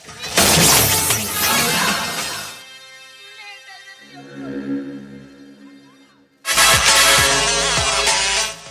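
A glass of water shatters with a loud, bright crash at the start, and a second burst of breaking glass comes near the end. Quieter tonal sounds fill the gap between the two crashes.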